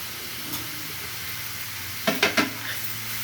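Radish stir-fry with coriander and fresh coconut being stirred in a pan, a quiet steady sizzle broken by a quick cluster of three or four scraping stir strokes near the end.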